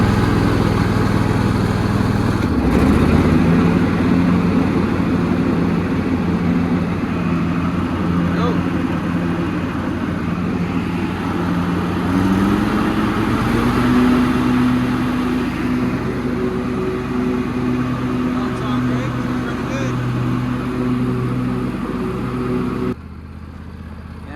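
A John Deere lawn mower engine runs loud and near, holding a steady drone that rises in pitch as it is revved midway, then cuts back sharply near the end.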